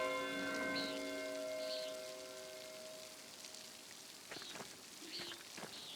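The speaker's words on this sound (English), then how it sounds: "It's raining. Storm's coming." Steady rain falls in the medieval-set game Pentiment, a soft continuous hiss with a low tonal music drone fading in and out and a few brighter drip-like ticks near the end.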